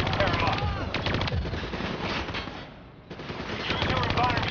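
Hijacked turrets fire in the video game Call of Duty Black Ops 3, loud rapid bursts of automatic gunfire crackling almost continuously, briefly easing in the middle before resuming at full intensity amid battle noise.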